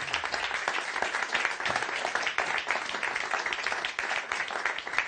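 Audience applauding a musician as she returns to her bandmates after singing at a convivial live music gathering; steady, fairly close clapping fills the whole stretch with no talk over it.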